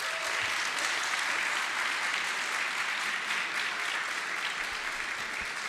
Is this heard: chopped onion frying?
no